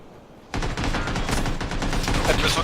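Enemy gunfire in the battle game PUBG breaks out suddenly after a quiet moment and continues as a dense, loud, sustained burst of shots to the end.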